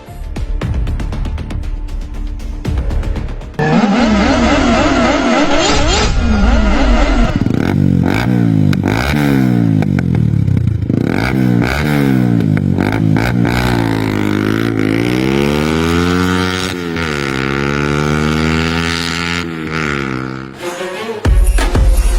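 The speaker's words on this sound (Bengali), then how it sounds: "বেবি কি বাইক চালাইতেছো জোরে যাও" A motorcycle ridden hard, its engine revving loud and close with rising and falling pitch sweeps as it accelerates through gears, continuous for most of the stretch.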